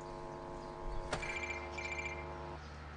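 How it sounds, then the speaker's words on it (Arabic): A telephone rings with a bright electronic trill in short repeated bursts. It is fairly faint, set over a steady background hum, and no one speaks. "يا بنت ما ترد على التلفون ده."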